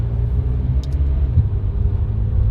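A McLaren GT's engine idles with a steady low rumble inside a parking garage, a constant close drone with no one speaking over it.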